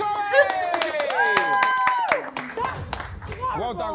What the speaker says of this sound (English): Round of applause for Chloe!